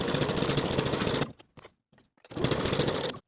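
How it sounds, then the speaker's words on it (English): A sewing machine stitching along the edges of a jacket pocket flap, loud rapid mechanical chatter in two bursts with a short pause of quiet clicks between them. "I'll sew these 3 edges with my 5/8 inch seam allowance, leaving the top long edge open for turning."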